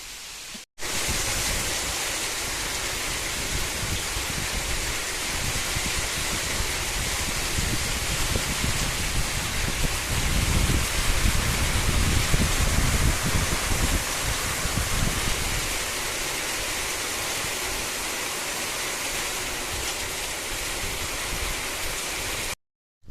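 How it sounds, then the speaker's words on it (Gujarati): Heavy rain pours down outdoors in a dense, steady hiss that stays loud and even for about twenty seconds, with no voices over it. "તો ભાઈ વરસાદ છે ને જો આવો પડે છે."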